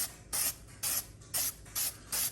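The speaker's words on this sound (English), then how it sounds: "let's just try a test spray right there on the box" A rattle can of high heat paint is test-sprayed onto a cardboard box in five short, even hissing bursts with brief pauses between them, close and alone.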